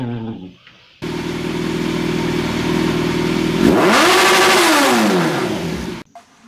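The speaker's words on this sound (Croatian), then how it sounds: "I prvi motor koji nam je na redu je APN 6." A Tomos APN 6 moped engine idles with a buzzing two-stroke drone and is then revved hard. The pitch climbs and wavers before the engine cuts off abruptly, loud and close.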